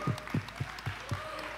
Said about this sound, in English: A big round of applause for all of our wonderful women here